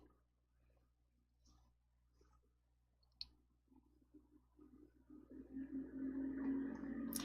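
Computer mouse clicks, a few faint isolated taps spaced apart in a quiet room, followed by a rising broadband noise toward the end.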